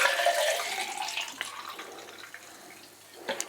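Liquid film developer pours out of a developing tank for black and white film, a close, gurgling stream that tapers off, ending with a few faint splashes and drips.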